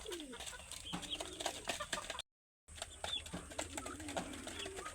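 Domestic chickens and ducks cluck and call in a farmyard, with repeated short calls throughout and a brief gap midway.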